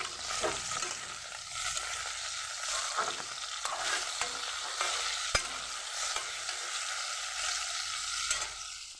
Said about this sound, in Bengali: দিয়ে দিচ্ছি সামান্য নুন, অল্প করে হলুদ গুঁড়ো দিয়ে আলুটা আমি ভেজে নিচ্ছি